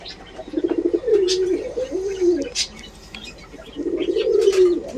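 Several pigeons coo in a cage, including racers, red checkers and tumbler breeds, with close, repeated rolling coos in two bursts separated by a pause, with light chirps and faint wing sounds around them.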